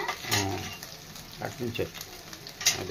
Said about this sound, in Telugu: 2 స్పూన్లు అల్లం వెల్లుల్లిపాయ పేస్ట్ ని వేపేసుకోవాలి.